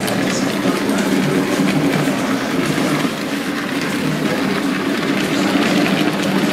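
A steady rumbling clatter of a model train running along its track at a model railway exhibition, continuous and fairly loud throughout with no voices.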